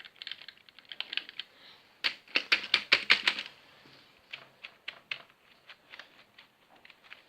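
A Dell computer keyboard being typed on, with a dense burst of loud, sharp clacking keystrokes followed by sparser, irregular taps, close and clear, with no speech.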